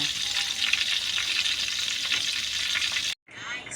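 Anchovy fritters (dilis okoy) frying in a pan, a loud close crackling sizzle that runs steadily, then cuts off briefly before resuming more softly.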